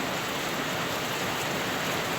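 Very heavy rain pours down in a dense, steady roar over a forest clearing, with no break and no voices.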